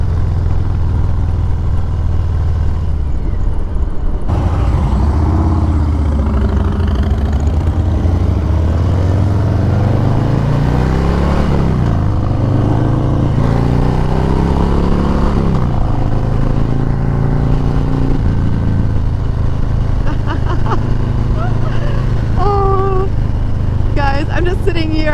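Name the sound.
2018 Harley-Davidson Heritage Classic 114 motorcycle riding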